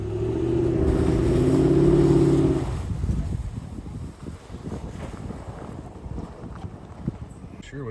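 A Toyota 4Runner engine roars loudly under strain while struggling to push through on a spring camping trail, the revving fading after a few seconds into rumbling, crunching movement and wind buffeting with a voice talking.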